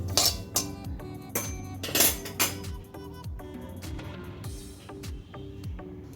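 Roasted poppy seeds being scooped out of a pan on low flame, with a series of sharp metallic clinks and scrapes of a spoon against the pan, close and irregular, with no talking.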